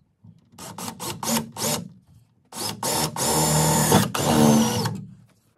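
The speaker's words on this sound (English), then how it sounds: "we are going to start drilling the hole" A power drill drills a hole in a Porsche 924 during dashboard and antenna installation, whirring in several short bursts, then longer sustained pulls as it bites in, nearby and fairly loud.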